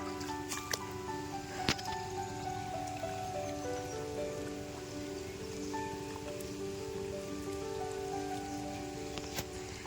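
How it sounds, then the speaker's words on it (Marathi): Steady, soft rain patters in the background over farm fields during rice transplanting, with occasional sharper drips and faint tonal sounds, fairly quiet throughout. "आता पाऊस आता जोरात येतो"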